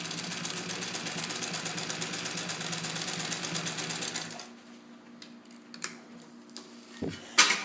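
A restored Singer 66 sewing machine, Centennial Edition, with a size 16 universal needle, runs in a fast, even mechanical rattle of stitching that stops abruptly midway, followed by quiet with a few clicks and knocks.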